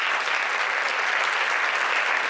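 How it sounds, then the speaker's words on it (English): Audience applause at a school community meeting, a dense, steady wash of many hands clapping at even loudness throughout, close and continuous with no voices above it. "I would actually give you all a huge round of applause."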